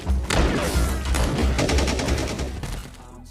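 Dense, continuous rifle gunfire from a movie action scene, a rapid fusillade of loud overlapping shots with booming low thuds, sustained throughout and trailing off at the end.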